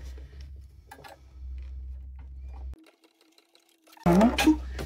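A sewing machine stitches a Stitch-themed version of a Britney bag in short bursts of fast, close mechanical ticking, dropping briefly to near silence before a louder burst at the end.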